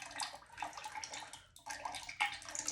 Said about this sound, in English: just pouring the glaze on the top part of the handles.